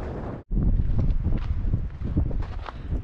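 Wind gusts across the microphone on a hiking trail in Italy, a steady rough rushing that briefly drops out before returning, with faint footsteps or rustling underneath.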